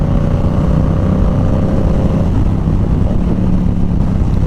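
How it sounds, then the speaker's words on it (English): Yamaha R7 sportbike with a full aftermarket exhaust system, tuned, running on a partly wet road: a steady, loud, close engine drone with a brief rising note partway through, continuous for the whole stretch. "listen to this exhaust"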